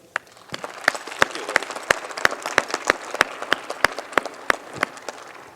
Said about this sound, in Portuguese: me ajude a receber com forte aplauso o pastor